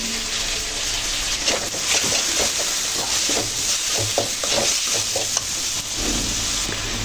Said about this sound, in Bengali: এরপর যোগ করে নেব টমেটো, আর এরপর গাজর আলুগুলো অ্যাড করে নিলাম।